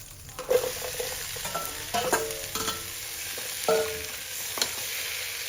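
Mixed vegetables with fresh shrimp sizzle and crackle in a hot pan, with scattered clanks and scrapes of stirring; no voices.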